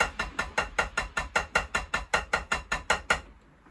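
Drum double strokes played shifted by one beat make a steady run of about sixteen sharp, evenly spaced hits in loud close succession, then stop abruptly, with no talking.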